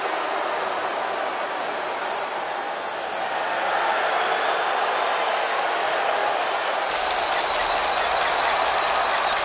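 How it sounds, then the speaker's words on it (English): Arena crowd in the wrestling game WWE 2K25 roaring steadily for Tiffany Stratton's entrance before a home crowd, a dense wash of cheering throughout that swells louder in the final seconds. "Tiffany Stratton getting a warm welcome from this home crowd."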